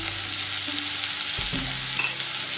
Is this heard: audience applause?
no